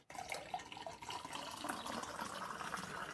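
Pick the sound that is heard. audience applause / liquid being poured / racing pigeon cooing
liquid being poured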